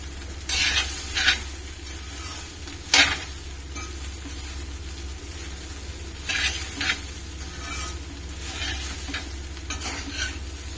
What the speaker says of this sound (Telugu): సో రైస్ వేసుకుని ఇప్పుడు మొత్తం కలగలి మిక్స్ చేసుకుందాం